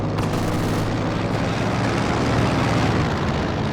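A warplane passes overhead in a Company of Heroes 2 match, a loud, dense roar of engine noise that fills the whole span with no speech over it.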